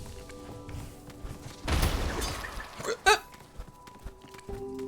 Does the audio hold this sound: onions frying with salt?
no